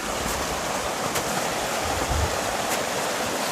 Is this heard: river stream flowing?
yes